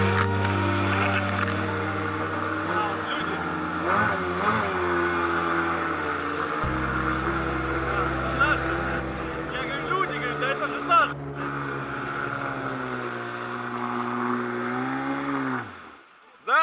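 A jet boat motor drones steadily on the Chemal mountain river in the Altai Republic, its engine note shifting pitch as it works against the current, with voices talking over it.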